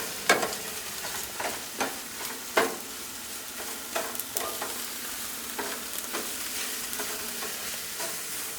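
Steaks fry in a non-stick pan at a campsite, with a steady sizzle broken by repeated scraping strokes of a silicone spatula, close up and with no talking.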